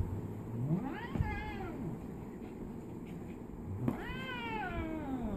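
A Maine Coon cat lets out two drawn-out, wavering meows while playing with a Shih Tzu, fairly close and moderately loud over a low background hum.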